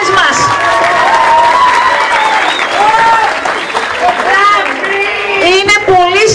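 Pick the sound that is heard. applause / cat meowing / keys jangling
applause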